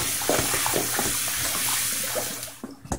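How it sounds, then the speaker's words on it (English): Cold tap water runs steadily into a sink to rinse padek, the fermented fish sauce used for Lao papaya salad, a continuous splashing wash that thins out near the end. "just rinse it in cold water"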